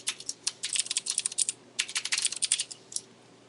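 Fast typing on a computer keyboard while coding a web app, close and crisp, coming in two bursts of rapid keystrokes separated by a brief pause, then a few final taps, no voices.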